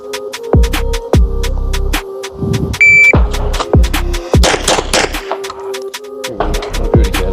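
Electronic shot timer start beep at a pistol drill on steel targets about 10 yards out, a short tonal beep near three seconds amid a run of sharp, loud gunshots that crack repeatedly before and after.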